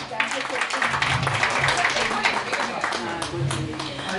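Audience applause for an orchestra singer at an anniversary karaoke event in an auditorium, a dense, steady wash of many hands clapping that fills the whole stretch with a faint voice underneath.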